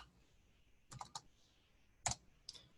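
A few quiet keystrokes clatter on a computer keyboard, scattered taps in short clusters against a faint background hiss.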